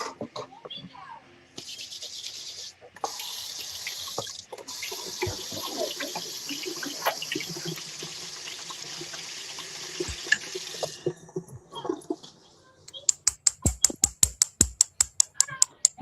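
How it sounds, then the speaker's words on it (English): Hands washed under a running sink tap: a steady close stream of splashing water for about ten seconds, then the tap shuts off, followed by a burst of quick, regular clicking. "Oh wait, I should wash my hands."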